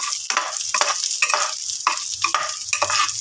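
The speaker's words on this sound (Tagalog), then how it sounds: "igisa natin siya sa sibuyas at bawang" Onion and garlic sizzle steadily in a small pan. A spatula scrapes and stirs in repeated strokes over the constant hiss.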